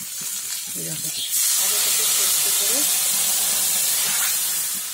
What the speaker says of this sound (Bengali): হলুদ দিয়ে মুগ ডালটা ঢেলে দিলাম